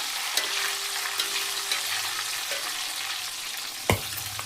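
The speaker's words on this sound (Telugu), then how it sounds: "4 పచ్చిమిరపకాయలు కూడా వేసి ఫ్రై చేస్తున్నాను." Green chillies frying in hot oil for chicken biryani, a continuous crackling sizzle with scattered pops and a sharp clack of a utensil near the end, close and without speech.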